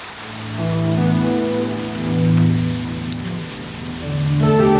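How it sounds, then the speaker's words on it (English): Steady desert rain in Eritrea patters across a surface, with sustained tonal music swelling gently underneath throughout. "now we were about to see one of the miracles of the desert rain"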